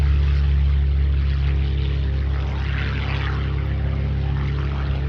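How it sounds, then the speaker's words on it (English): World War II fighter aircraft, including a Focke-Wulf, flying in a racetrack pattern at a Michigan airshow, heard as a steady, loud, continuous propeller engine drone that holds constant throughout without voices. "Our fighter is going to work around into a racetrack pattern"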